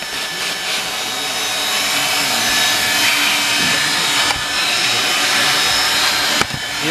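A vacuum cleaner whirs steadily while cleaning out a car interior, its droning hiss shifting as the nozzle rubs and scrapes against surfaces, ending with a couple of sharp knocks near the end.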